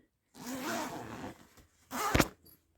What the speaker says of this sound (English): I found a zipper. So let's investigate and see what do we have here for our mattress.